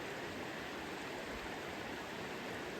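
Steady broadband rush of a stream where cold water flows in at a lakeside camp and fishing spot on an esker, continuous and fairly close with no pauses or voices.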